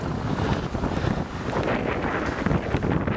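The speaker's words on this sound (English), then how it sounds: "There's no break for the wind here." Wind from a Montreal snowstorm blizzard roars loudly and continuously against the microphone in a dense, gusty rush that barely lets up for the whole stretch.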